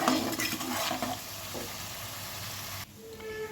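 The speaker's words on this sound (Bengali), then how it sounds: "এইবারে এই মশলাটাকে আমি আরও দু মিনিট কষিয়ে নেব" Spice paste with Kashmiri chili, turmeric and salt fried in a pan, a soft steady sizzle with a few stirring scrapes early on, fairly quiet and close.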